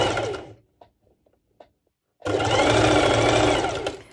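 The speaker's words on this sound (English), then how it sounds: "I have my length stitch on 4, and it's just a basting stitch over," A sewing machine running a long basting stitch on slippery bikini fabric: a short burst, a few faint clicks during a pause, then a steady, loud continuous whir to the end.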